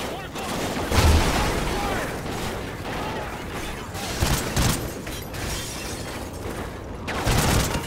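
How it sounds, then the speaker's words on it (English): Grenade blasts and heavy gunfire fill a Call of Duty: Ghosts firefight, with louder booming bursts near the start, middle and end over constant dense combat noise. "Oh, that's a grenade."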